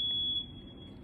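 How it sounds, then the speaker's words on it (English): A smoke alarm gives one sharp high beep that trails off, followed by a faint click, in a quiet indoor room. "I don't know what that beep is. Like a smoke alarm or something."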